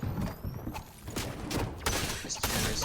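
Rapid bursts of gunfire from the video game Fortnite crackle in a dense, continuous volley with no voices over it.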